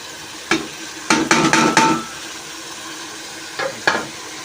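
Potatoes with spices stirred and roasted in a pan for aloo bhujia, a spoon scraping the pan in a few sharp clusters over a steady sizzle, close and fairly loud.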